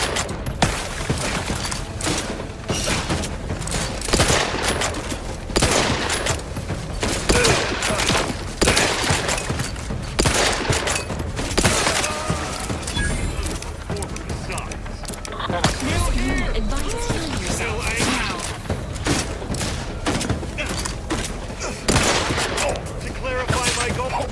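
Gunfire in The Outer Worlds 2, repeated bursts of shots in rapid uneven volleys over a long firefight, loud and close, with mechanical clanks and a voice talking at points.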